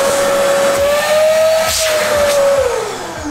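A powerful vacuum cleaner runs at full power, its motor giving a loud, steady whine that rises slightly in pitch, then eases toward the end over a rushing airflow.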